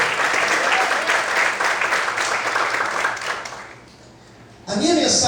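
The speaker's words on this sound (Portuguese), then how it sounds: "Desocupa a sua mão, aplaude o Senhor" A church congregation applauding during an evening service, dense and loud clapping that fades out near the end before a voice cuts back in.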